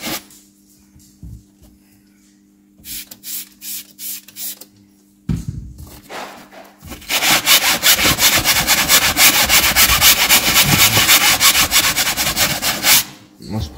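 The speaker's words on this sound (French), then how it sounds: "On frotte." A brush scrubs back and forth over a utility van's sprayed surface in quick, steady strokes, loud and close, preceded by a few lighter rubbing bursts and a brief pause.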